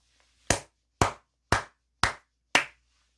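Five sharp, evenly spaced hand claps ring out alone against near silence, each crisp and close with a short decay.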